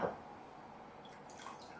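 A little water is poured into eggs for an omelette, making a faint, brief trickle and splash near the start, then only a soft kitchen hush.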